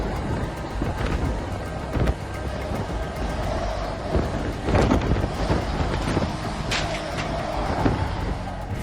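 A strong storm wind roars at a harbour in Bodø, Norway, as Storm Ingunn hits the coast. Dense, continuous rushing noise fills the scene, with buffeting gusts and sharp thumps breaking through at intervals, loud and close.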